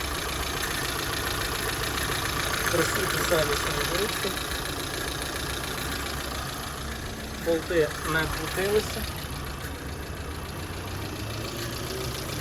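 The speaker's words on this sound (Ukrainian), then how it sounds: "Двигун працює чітко, рівно." A Hyundai Getz engine idles with a steady, even hum while someone talks over it.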